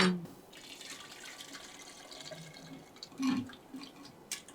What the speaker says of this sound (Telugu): సో మనం వాటర్ యాడ్ చేద్దాం కావాల్సినంత